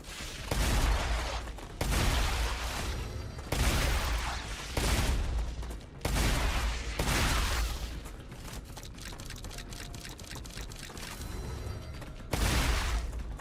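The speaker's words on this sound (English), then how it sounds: "Shotgun." Shotgun fire in the video game StarRupture comes as a series of loud, roughly evenly spaced blasts, each with a broad crack and short ringing tail, amid steady game noise.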